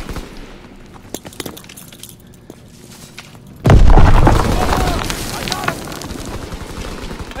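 A grenade detonates in a Call of Duty WW2 domination match on Xbox One: a sudden loud blast about halfway through rolls into a long, heavy rumble under battle noise and voices.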